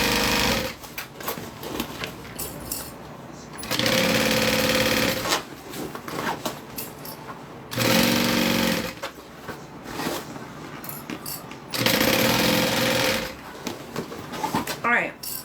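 Sewing machine stitching fabric in three loud, steady whirring bursts of a few seconds each, close up, separated by pauses while someone talks over the work.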